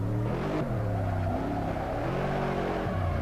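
Nissan Skyline engine in Assetto Corsa, a loud, steady engine drone accelerating through the revs with pitch rising and dropping at gear changes, close and continuous.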